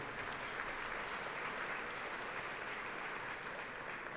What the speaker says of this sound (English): So maybe a round of applause for all the judges and indeed Gary Disley.